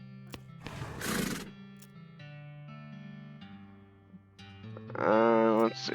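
A horse in the video game West of Loathing gives a loud, wavering whinny near the end, after a burst of noise and a soft musical background with electronic tones.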